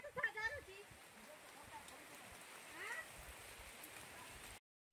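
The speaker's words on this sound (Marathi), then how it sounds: "पाऊस खूपच जोरात चालू झालाय" Steady rain hissing over everything, with people talking faintly underneath before the sound cuts out near the end.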